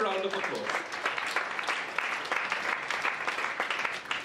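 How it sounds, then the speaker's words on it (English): An audience at a national AIDS programme managers' meeting claps for youth ambassadors, a dense round of applause that continues while talk carries over it. "give them a round of applause"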